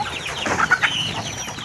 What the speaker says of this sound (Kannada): ನಮ್ಮಲ್ಲಿ ಕೋಳಿ ಸಾಕಿದ್ದೀವಿ